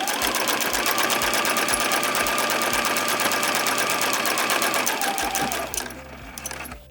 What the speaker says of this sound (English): I'm just going to sew straight down.